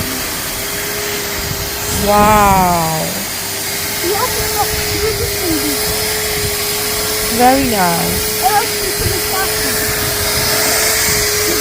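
A Henry Hoover vacuum cleaner runs with a steady, loud motor whine and airy hiss throughout, close by, while an adult and someone talk and exclaim over it.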